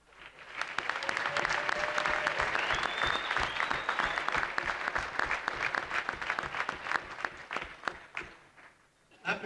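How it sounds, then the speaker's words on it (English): Crowd in a high school gym at Fremont applauds a girls varsity basketball team after their game against Angola, with sustained clapping and cheering throughout and faint whistles at moments. "I'd ask you again to give these young ladies applause"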